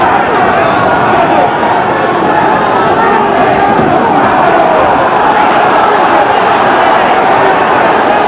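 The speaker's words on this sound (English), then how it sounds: "The crowd roared as Mincher scored with a quick left." Large arena crowd at the Marvin Hagler vs Alan Minter middleweight title boxing fight roars and murmurs steadily throughout, a dense continuous wash of voices with no break.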